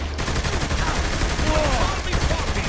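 Rapid bursts of gunfire from the video game Saints Row: The Third fire back to back throughout, with a voice talking over the shooting.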